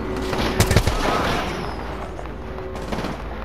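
Gunfire in the battle royale game Apex Legends, a short burst of sharp shots near the start followed by a dense, rumbling wash of battle noise and a few fainter pops.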